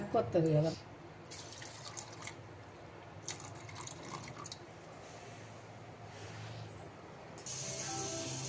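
Soaked rice is rinsed clean and its water poured off for crispy rice-and-sago vadiyalu: soft running and splashing water with drips and brief clatter, steady at moderate loudness, plus a louder splash near the end.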